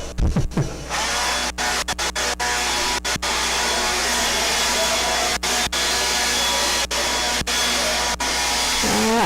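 A new blower running at a drag racing event, a loud, steady high-pitched whine held for the whole stretch, broken by a few sharp clicks and pops, with no talk over it.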